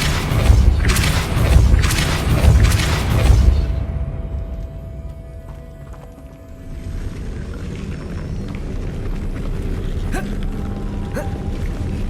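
Casting the Depulso spell in Hogwarts Legacy sets off a deep, rumbling magical boom that surges and fades, followed by a quieter ambient hum with faint creaks and clicks.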